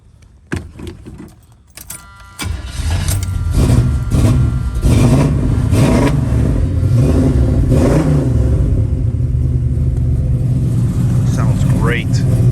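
A 1978 Chevrolet Nova V8 engine cranks and catches after a few clicks and rattles, then settles into a loud, steady idle broken by several throttle blips, heard up close.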